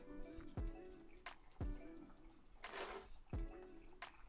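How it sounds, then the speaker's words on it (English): Gurgling, bubbling water sloshes inside a 32-ounce canning jar of pork in short bursts, with a few soft knocks and a brief hiss in the middle, close and fairly quiet. "You can hear the bubbles kind of moving around."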